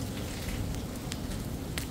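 Steady rain falls and patters on surfaces outdoors, a dense continuous hiss with a few sharper drops standing out, fairly close and with no voices.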